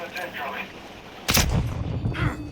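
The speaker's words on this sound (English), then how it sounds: "I'm taking fire" Gunfire in Call of Duty on Ashika Island: a sudden loud burst of shots erupts partway through, followed by continued rattling fire, with muffled voices and game ambience beneath.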